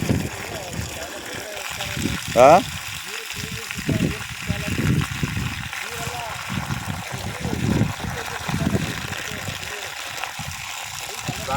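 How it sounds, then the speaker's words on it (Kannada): Water gushes and trickles into a well, a steady watery wash that runs beneath intermittent conversation between people nearby. "ಈಗ ನೀರು ಬಿಡೋದು"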